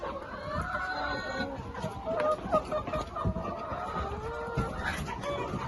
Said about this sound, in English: completely local birds, healthy birds. They lay and hatch their own eggs.